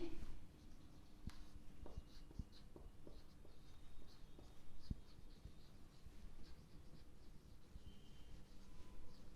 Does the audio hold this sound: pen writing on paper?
yes